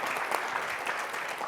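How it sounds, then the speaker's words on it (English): An audience at a talk on analytics leadership claps together in a steady, dense burst of applause, fairly distant and continuous throughout. "I want to give a round of applause for everybody"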